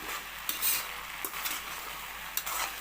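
A spoon scrapes and stirs a spiced mixture in a pan while it fries, making a soft continuous sizzle broken by a few brief scraping strokes, close and fairly quiet with no talking.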